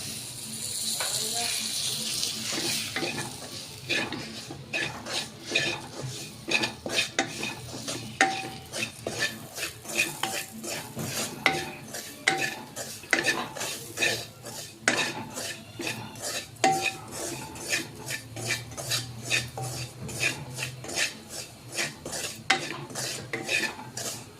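Semolina roasting in ghee in a pan for moong dal halwa, stirred with a metal spoon in rapid repeated scraping clinks and a gentle sizzle underneath, with occasional speech.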